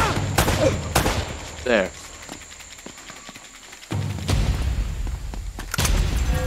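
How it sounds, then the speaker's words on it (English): Enemy gunfire in Uncharted: Drake's Fortune: loud bursts of shots and booms come in clusters near the start and end, with a quieter lull between and brief talk over it. "They're shooting at you too, you know."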